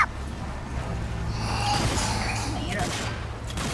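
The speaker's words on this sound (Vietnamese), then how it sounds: "Ê, nó bắn tao." Gunfire rattles from the Zombie Army 4 video game with zombies shooting from a boat-side coastal level. Steady bursts of mid-loud shots sit under ambient game noise, and faint voices come through.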